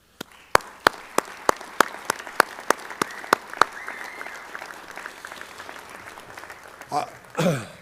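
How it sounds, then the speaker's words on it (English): Audience applause at a high school hall of fame event honoring a 2012-13 varsity football team: sharp, evenly spaced claps ring out in a slow steady rhythm, then fade into brief louder crowd noise and voices at the end. "I'd like to go ahead and give these guys a round of applause."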